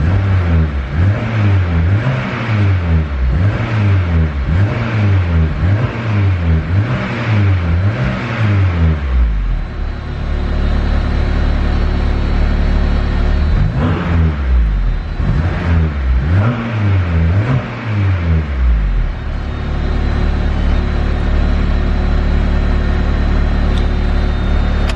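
A built turbocharged K24 engine in a Honda Civic EP3 revs repeatedly in rising and falling sweeps, then settles back to a steady idle before revving again, loud and close.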